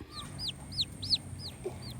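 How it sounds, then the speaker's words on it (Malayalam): A mother hen with newly hatched chicks gives a run of soft, rising clucks, about five or six in quick succession, fairly quiet and close, with no talking. "ഇതാണ് നമ്മുടെ അടയിരുന്ന് വിരിഞ്ഞ കോഴി കുഞ്ഞുങ്ങളുടെ അമ്മ അമ്മ കോഴി"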